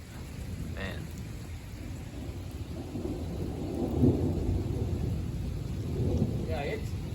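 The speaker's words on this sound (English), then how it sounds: "Ooh, we had some heavy rain there." Heavy thunderstorm rain pours down in a steady, dense hiss while low thunder rumbles swell and roll beneath it, with brief faint voices near the start and end.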